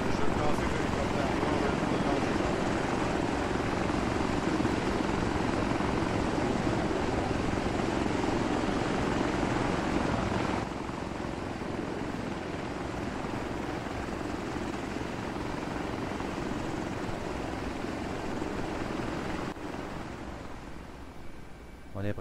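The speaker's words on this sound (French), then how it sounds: "je vais lancer l'hélicoptère" A helicopter's engine and rotor in the video game ArmA 3 drone steadily throughout, a dense, constant whirring roar that eases slightly partway through.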